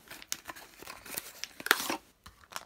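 Foil-and-paper wrapper of a Furuta Choco Egg (Star Wars series) being torn open by hand, a close series of sharp rips and crinkles in uneven bursts, with no talking.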